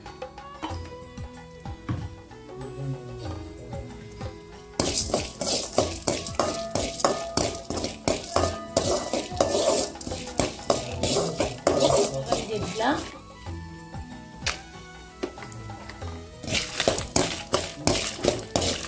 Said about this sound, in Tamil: கொஞ்சமாக எண்ணெய் ஊற்றி வறுத்துக்கலாம்.